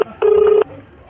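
A telephone tone sounds once, a loud, clean electronic burst of under half a second, followed by quiet.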